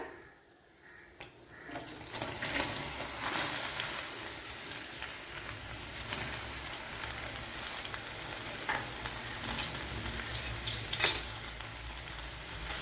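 Ripe plantain pieces with skin frying in a pan for a Kerala-style pazham nurukku breakfast, a soft steady sizzle running throughout with light stirring clatter and a brief brighter crackle near the end, no talk.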